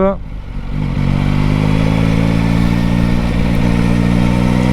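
A Yamaha Tracer 9 GT runs at low speed on full steering lock, its engine a steady, close, even drone under continuous rushing wind noise, with no sharp revs.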